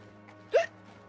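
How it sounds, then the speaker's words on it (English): A single sharp hiccup, brief and fairly loud, stands out against a quiet background with a faint steady hum. "Ooh, I got the hiccups."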